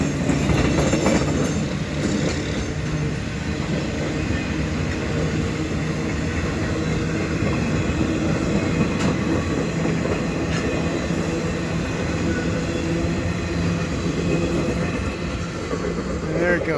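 A CN freight train, the Blue Devil, hauls empty welded rail cars past Argensen Park in winter drizzle, a steady close rumble with rhythmic wheel clicks and faint squeals for the whole stretch.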